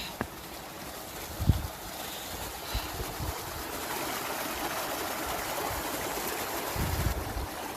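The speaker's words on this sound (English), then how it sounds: "It's not a big waterfall, it's just a little one." A small mountain waterfall near Llyn Dinas flows in a steady, broadband rush that holds throughout, with a few low thumps and bumps close by.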